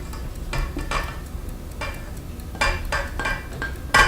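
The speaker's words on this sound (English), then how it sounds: "So I'm going to put it into my mixing bowl." Two cups of sifted all-purpose flour go into a mixing bowl with a series of soft taps and light clinks of a utensil against the bowl, spaced irregularly, close and fairly quiet.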